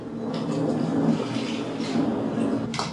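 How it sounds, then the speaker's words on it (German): Vodka being poured from a bowl back into its original small bottle, a gurgling, sloshing liquid stream close up, continuous for a few seconds with a brief clink near the end. "ich gieße die Wodka zurück rein in dem originellen Fläschel"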